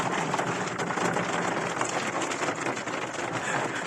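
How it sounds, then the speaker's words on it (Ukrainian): Hail pelting down during a May storm, a dense, continuous hiss of countless small impacts that stays loud and steady throughout, with no voices over it. "Це град."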